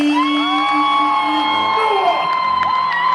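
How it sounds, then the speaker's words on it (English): An awards ceremony crowd cheers and whoops loudly, with high shouts and yells layered over a steady roar of voices throughout the clip. "A bigger applause for Ramsey"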